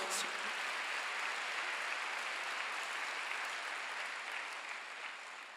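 A church congregation at Sunday worship breaks into sustained applause, a dense and even wash of many hands clapping, steady throughout and easing slightly at the end, with no voices.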